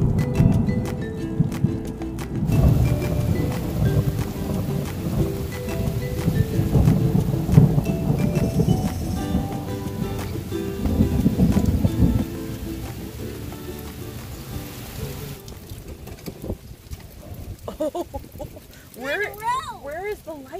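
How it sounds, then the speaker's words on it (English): A heavy thunderstorm with steady rain pouring on surfaces and rumbling thunder, loud and close, with a voice speaking over the storm toward the end. "Where is the lightning coming from?"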